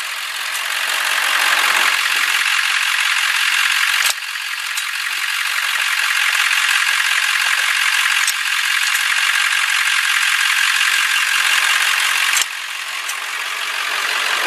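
A 1999 Ford F350 pickup idles steadily and fairly loud, its even engine drone running continuously with a slight rattle and small shifts in level, no voices over it.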